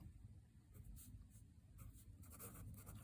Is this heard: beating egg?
no